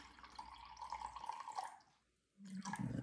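Water pours in a steady stream into a mix of vinegar and salt, briefly stops, then splashes back in louder near the end; quiet and close, with no talking.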